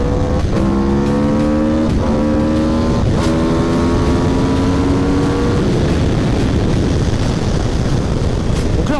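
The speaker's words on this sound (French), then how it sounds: "on fait des entrées en glisse à 190" A motorcycle drifts into a corner at about 190 km/h on a race circuit, its engine loud and close, howling at a high pitch that climbs and shifts through rising tones, then drops away into rough, broadband roar.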